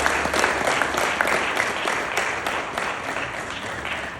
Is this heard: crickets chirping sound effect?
no